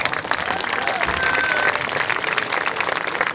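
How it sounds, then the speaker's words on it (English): A crowd at a marching band parent event applauds, dense sustained clapping with some voices mixed into the noise. "So let's give him a big round of applause."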